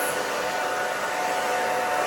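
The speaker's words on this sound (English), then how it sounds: "the blow dryer's air will go through those vents" A handheld blow dryer roars steadily while drying a pixie haircut, a close, loud, continuous rush of air with no breaks.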